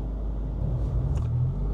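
Stage 2 modified Subaru WRX with manual transmission and JB4 tune, driven slowly through city streets: a low, steady engine rumble with mild road noise that swells a little partway through, with no talking.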